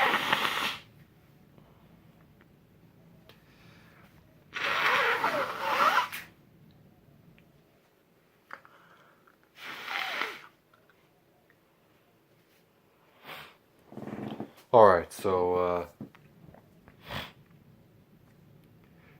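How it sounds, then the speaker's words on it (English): Nose being blown in several separate bursts, each a short loud breathy honk, with sniffs in between and a quiet pause after each one; a voice speaks one brief word. "let me blow my nose"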